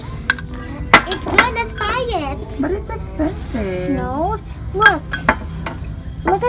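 Kitchenware and a spoon handled on a store shelf give a few sharp clinks and taps scattered between stretches of conversation, close and fairly clear.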